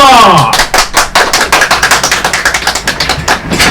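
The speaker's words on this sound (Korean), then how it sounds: "다같이 힘찬 박수로 시작하겠습니다" Audience clapping at the opening of a Korean English lecture, starting after a brief spoken lead-in and continuing as a loud, rhythmic run of claps from a group of people.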